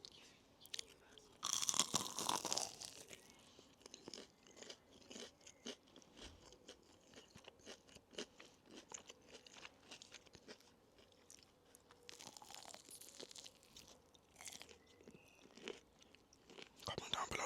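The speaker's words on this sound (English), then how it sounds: "Let's get a good crunch." Crunchy bites into a McDonald's Frank's RedHot stack, close and crisp, with a loud burst of crunching early, then softer chewing and scattered crackles, with occasional quiet talk between bites.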